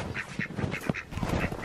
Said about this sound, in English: Oh, a chicken came out at you.